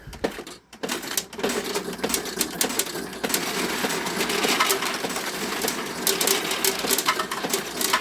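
A Terra Formars pachinko machine plays loudly, with a dense clatter of rattling metal balls, chimes and electronic jingles running continuously up close.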